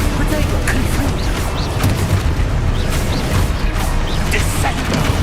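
Magic spell blasts from the Confringo fire spell in the video game Hogwarts Legacy, a dense barrage of booming explosive impacts and crackling effects over continuous battle noise.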